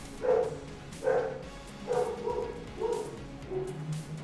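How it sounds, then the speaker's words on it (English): A dog barks at a distance, five or six muffled woofs spaced about a second apart, heard faintly in the background. "What's my stupid dog barking about?"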